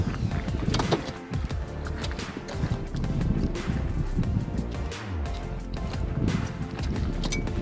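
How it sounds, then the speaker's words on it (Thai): Strong gusts buffet the microphone outdoors during setup of a rooftop car tent, a loud continuous roar with surging rumbles and scattered knocks, no talking heard. "ลมแรงนะครับลมแรงนะ"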